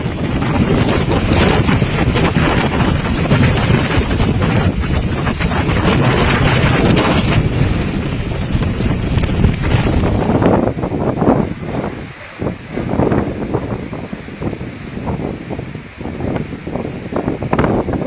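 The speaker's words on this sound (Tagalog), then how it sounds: "ramdam na ang malakas na hangin sa dalampasigan" Loud, steady wind from a typhoon buffets the microphone on a beach in Santa Ana, Cagayan, with a constant roar, easing slightly and turning gustier toward the end.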